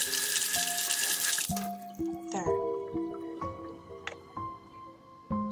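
Water pours and then drips in a video game, a loud gushing stream at first giving way to scattered drops under game music, with a brief spoken word.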